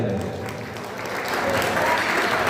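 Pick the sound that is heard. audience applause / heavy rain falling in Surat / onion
audience applause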